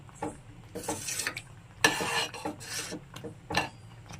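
Semolina being stirred into thickened sugar syrup for rava kesari, a spoon scraping and clinking against the pan in irregular nearby strokes, with a louder burst of scraping partway through.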